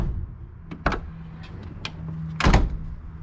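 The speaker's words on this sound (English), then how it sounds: "I love just the noise the doors make." A stock VL Commodore's door shuts with a solid, heavy thunk near the end, preceded by a couple of lighter clicks and handle or latch sounds, close by, with a steady low hum underneath.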